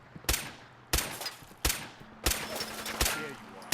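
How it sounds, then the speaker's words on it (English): In the Fallout 4 video game, a Psycho Raider fires at the player in sharp, evenly spaced gunshot cracks, about six in under four seconds, each trailing into a noisy decay beneath faint game ambience. "So we've got a Psycho Raider shooting at us now."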